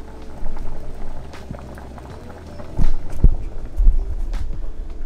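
Rice boils in a pot in a home kitchen, a close bubbling and gurgling that swells and eases in uneven bursts, with a few soft knocks and no talking.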